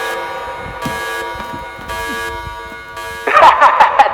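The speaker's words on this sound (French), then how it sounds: "Désolé, j'ai toujours voulu utiliser cette alarme." An alarm sound effect used as a comedic bomb-alert gag: a steady buzzing alarm tone with strong harmonics holds throughout, turning louder and harsher in a closing burst.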